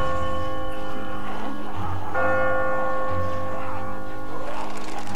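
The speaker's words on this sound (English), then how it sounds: "If you've been near a bell when it rings" A church bell rings loud and close in The Walking Dead video game, its strikes blooming into a sustained metallic hum with fresh strokes every second or so.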